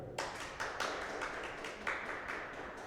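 Scattered audience clapping at a live podcast recording, a few sparse irregular claps and taps standing out over a low room murmur, brief and moderately close.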